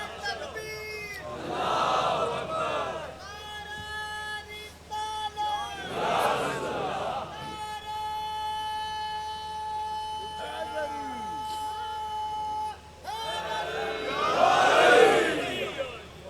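A crowd at a Muharram majlis in Kotli Ameer Ali, Sialkot, chants religious slogans in loud, repeated bursts, with sustained tones running between the swells of voices.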